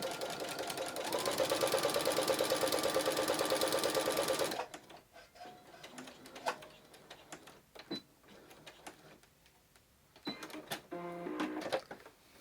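A sewing machine stitches a fleece jelly roll mat with a rapid, even mechanical whir for about four seconds, then stops, leaving scattered quiet clicks and handling sounds.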